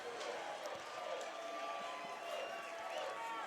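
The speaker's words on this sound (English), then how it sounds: "Here are a few boos from the crowd" Football crowd at a North Greenville vs. Mars Hill college game booing a holding penalty, a steady, distant wash of disapproving voices filling the stadium, fairly faint, with no clear single shouts.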